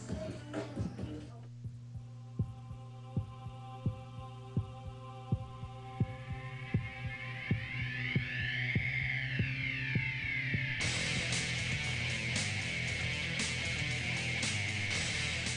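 Pounding heartbeat effect in a paintball tournament broadcast: a steady, evenly spaced thump over a low droning hum that swells and speeds up, then gives way to a bright, sustained noisy wash near the end.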